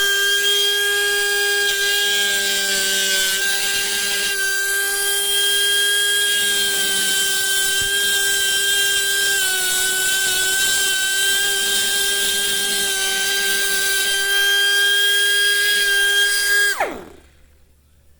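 A fine, sharply pointed diamond burr grinds into a carved granite relief. It gives a loud, steady, high-pitched rotary whine that holds for about seventeen seconds, then winds down abruptly into silence.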